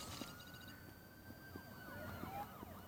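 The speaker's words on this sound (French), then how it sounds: "il y a la police qui va arriver." A police siren wails in the Gangster Vegas video game, with sweeping, rising and falling tones over steady background game noise.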